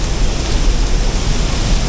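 A waterfall at Baños de Agua Santa, Ecuador, roars from close by as a loud, dense, unbroken rush of falling water filling the whole clip.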